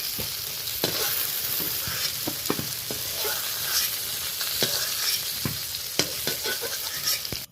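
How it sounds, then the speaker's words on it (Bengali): Brinjal slices frying in oil in a wok, a steady close sizzle with repeated scraping and stirring clicks throughout, no voices. "হালকা লালচে করে বেগুনটা বেশ ভেজে নিলাম"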